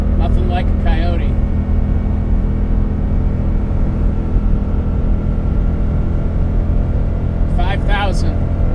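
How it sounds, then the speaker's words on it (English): A Ford Mustang S650's Coyote V8 engine rumbles low and steady throughout, with brief bursts of talk near the start and end. "You can hear that engine, man."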